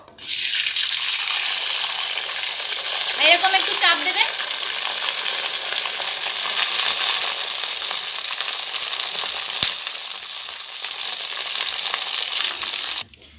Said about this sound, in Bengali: এবার আমি পাপড়গুলোকে ভেজে নেবো